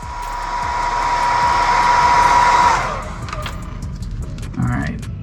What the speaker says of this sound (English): If you guys don't have a blow dryer or a heat gun, I definitely recommend it.